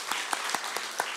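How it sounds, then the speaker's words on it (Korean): A church congregation applauds at an ordination service, a steady wash of clapping with a few sharper individual claps standing out, fairly close and continuous throughout. "우리 박수해 주시기 바랍니다."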